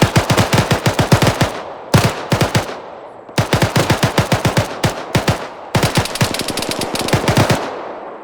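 An ArmA 3 firefight fills the clip with loud, close automatic gunfire in long rapid bursts, separated by brief pauses of a second or so.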